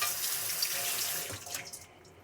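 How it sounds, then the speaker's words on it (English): Tap water runs steadily into a sink as a medium potato is rinsed underneath, a continuous splashing hiss that thins and breaks into brief splatters near the end. "I start by washing the potato under running water."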